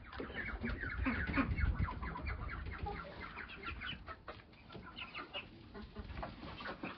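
Chickens cluck and squawk busily in a farmyard with ducks present, with overlapping calls from several birds, fairly close and continuous.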